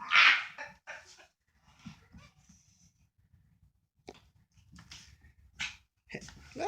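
A small dog barks sharply in a few close bursts, then whimpers and yips softly between them, with quiet gaps in between.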